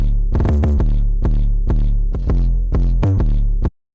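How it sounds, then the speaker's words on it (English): A distorted 808 bass with heavy extra low end plays a series of loud, booming rhythmic hits with saturated harmonics, alone, cutting off abruptly at the end. "But I got this 808 and it sounds a lot like his type of 808."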